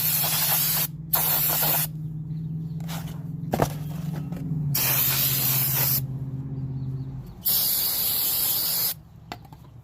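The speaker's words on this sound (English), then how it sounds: "spray it on a rag" Bursts of brake cleaner spray hissing onto a rag during a front brake change on a 2008 Kia Rio, several loud blasts separated by pauses, with a faint low hum and a brief knock in the background.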